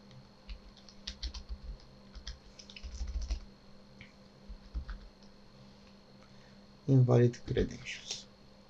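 Computer keyboard typing while writing code for JWT authentication in a .NET 8 Web API, light scattered clicks in short bursts with a louder cluster near the end, a voice talking faintly in the background.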